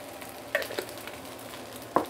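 Char siu fried rice with fried garlic is stir-fried in a hot pan, giving a steady soft sizzle with a few brief scraping clicks of the spatula near the start and end.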